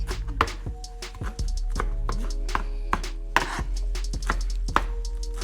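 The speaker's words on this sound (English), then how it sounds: "Cilantro. And chop, chop, chop, chop, chop, chop." A knife chopping cilantro on a cutting board, a quick run of sharp, close knocks in an uneven rhythm over a steady low hum.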